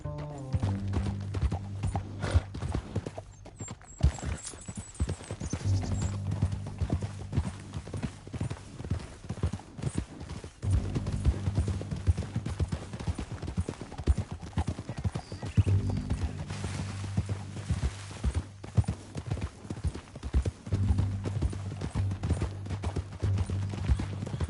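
Steady galloping hoofbeats pound along in a fast rhythm in Red Dead Redemption 2, with a horse whinnying now and then over a low rumbling background.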